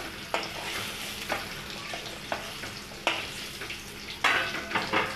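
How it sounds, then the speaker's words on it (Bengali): Oil sizzles continuously as a utensil stirs and scrapes through paneer frying in a pan, with periodic clatters. "এই পনিরগুলো আমার ভাজা হয়ে গেছে, তুলে নিচ্ছি কড়া দিয়ে।"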